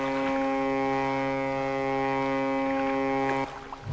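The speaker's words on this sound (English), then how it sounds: "Foghorn." A boat's foghorn in the fishing game Dredge gives one long, steady, loud droning blast that holds for several seconds and then cuts off abruptly.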